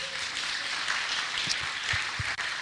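An audience at a storytelling slam claps: continuous, fairly even applause from a crowd that holds steady for a couple of seconds.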